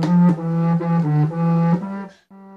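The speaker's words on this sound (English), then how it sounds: "The contrabass recorder is one of the lowest sounding instruments in the woodwind family." A contrabass recorder in F, pitched two octaves below a standard recorder, plays a short phrase of low, breathy sustained notes, then ends on a quieter held tone, heard alone and up close.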